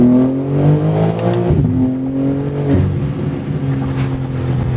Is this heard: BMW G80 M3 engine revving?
yes